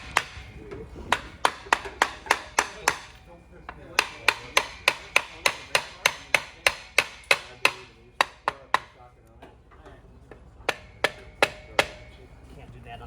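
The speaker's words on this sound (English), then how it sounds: "Hammer. Hammer time." Metal hammer blows ring out on the suspension of a 1962 Ford Thunderbird, sharp evenly spaced strikes in rapid bursts of six to ten, close and loud, with short pauses between runs.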